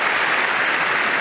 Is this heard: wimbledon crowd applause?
yes